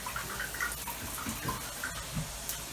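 Water rushes steadily through the plumbing of an RV trailer, a constant hiss and splash with faint drips and gurgles, close and fairly loud throughout.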